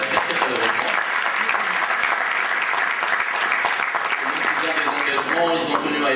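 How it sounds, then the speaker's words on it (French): Audience at a 2012 business forum round table breaks into sustained, dense applause, many hands clapping steadily and warmly throughout. "vous demandez s'il vous plaît de les applaudir"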